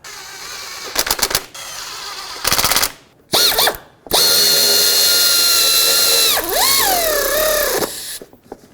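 A power tool drives Torx and 10mm bolts back into the timing belt cover of a 2001-2007 Volvo V70, loud close ratcheting bursts at first, then a sustained whining run with pitch dips as the bolts seat.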